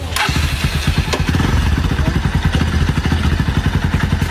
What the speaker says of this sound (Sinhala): මේ අපි බයික් ස්ටාර්ට් කරලා තියාගමු.